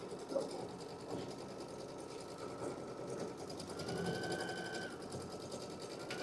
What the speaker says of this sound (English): It takes 3 minutes to sew this design.